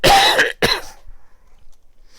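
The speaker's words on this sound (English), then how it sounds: "Alright, I'm coughing more." Two harsh coughs close together near the mic, followed by quiet breathing and faint rustling.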